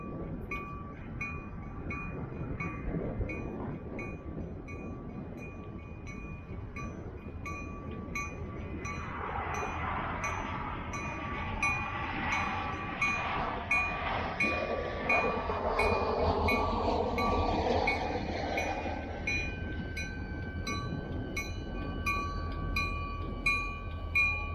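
A bright orange Brightline passenger train arrives, its low rail rumble swelling steadily while sustained tonal horn-like notes ring out over the approach.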